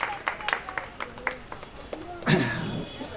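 Applause from an audience at a ration kit distribution, thanking the food distribution team: scattered claps under a speaking voice, then a louder burst of clapping near the end.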